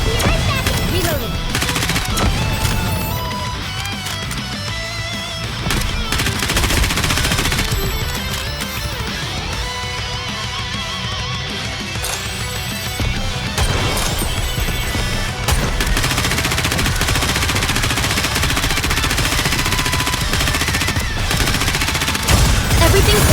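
Sustained gunfire in the Nikke: Goddess of Victory mobile shooter game, dense rapid bursts layered over a loud game soundtrack and effects for the whole stretch, with occasional character voice lines.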